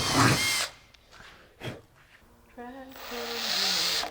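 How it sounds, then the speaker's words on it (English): A power drill boring holes to mount an aluminum drag wing on a 1982-92 Chevy Camaro, with short whirring bursts at the start and end separated by quieter stretches and a brief sound in between. "we're gonna go ahead and drill the rear 4 first"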